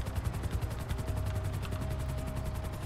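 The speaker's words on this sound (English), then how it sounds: "The helicopter's way easier than the plane, guys, though." A helicopter flying in Grand Theft Auto V, its steady engine drone and fast rotor chop filling the mix continuously and loudly, with no voices over it.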